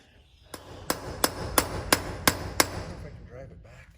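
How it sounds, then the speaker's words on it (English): Seven sharp, evenly spaced hammer blows ring out as a broken bolt is pounded out of the PTO on a farm harvest machine, each strike crisp and close against low background hum. "we're gonna pound it out and then replace it with a new one"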